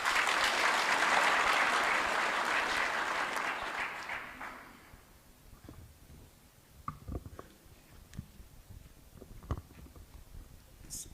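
Audience applause at a government luncheon and debrief welcoming back a returning security mission contingent, loud and dense for about four seconds, then fading to scattered claps and faint murmurs.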